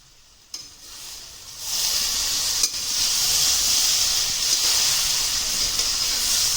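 Besan bitter gourd curry hissing steadily in a pan, a soft tap and a brief clatter as it is stirred, then a loud continuous sizzle that lasts to the end with no talking.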